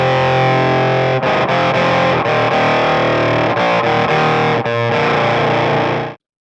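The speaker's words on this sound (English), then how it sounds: "I'll turn it on and you'll get a flavour of the sound. It's very organ-like" An electric guitar runs through distortion and modulation effects for a thick, organ-like tone, playing loud sustained chords and riffs with a few brief breaks, then cutting off abruptly.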